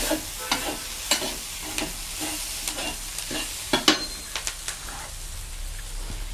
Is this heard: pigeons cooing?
no